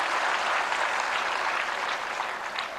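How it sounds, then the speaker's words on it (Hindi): Dense, steady applause from an audience at a World Food India event honoring food processing stakeholders, sustained and fairly loud for about three seconds and tapering slightly at the end, with no speech over it. "एक बार जोरदार तालियां फूड प्रोसेसिंग के क्षेत्र में सभी स्टेक होल्डर्स के लिए।"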